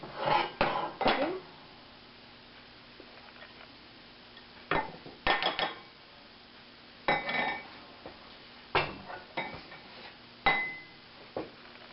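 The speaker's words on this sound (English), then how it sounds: "I'm going to use that to scrape out my pot with the hot pudding." A heat-resistant spatula scrapes a pot of hot homemade chocolate pudding, making short bursts of clinking and scraping against the metal every second or two with brief quiet gaps between them, close by and with no talk.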